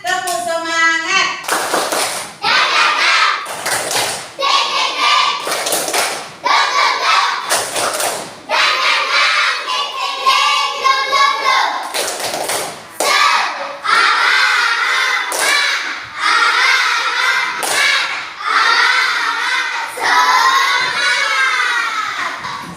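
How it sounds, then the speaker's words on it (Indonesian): Children in a classroom perform the tepuk semangat clapping chant: loud, close, rhythmic bursts of hand claps in steady patterns, interleaved with their shouted chanting voices throughout. "Coba kita nak tepuk semangatnya, Nak. Tepuk semangat."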